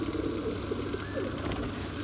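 A single male pigeon, sold as a top-quality bird, coos in low, soft, repeated throaty phrases over a steady background hum, close by but fairly quiet.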